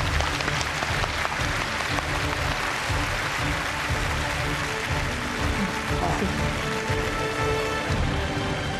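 A studio audience at a Chinese dating-show taping applauds to welcome a guest on stage, producing dense, sustained clapping that continues throughout without pause.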